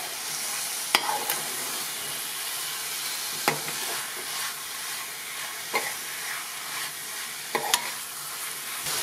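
Marinated mutton fries in oil over a high flame with a bright, steady hiss and sizzle, broken by a few distinct clanks of a spoon stirring against the pan.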